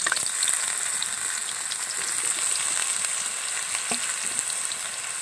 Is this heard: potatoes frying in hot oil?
yes